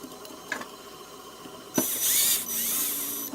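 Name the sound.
tightening M4 bolts into plastic with a driver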